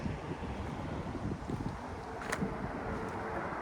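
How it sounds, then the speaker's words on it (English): Wind gusting outdoors in an open yard during hickory firewood splitting, a soft steady rush buffeting the microphone with brief stronger puffs, no voices. "The wind's picking up, so you probably can hear that."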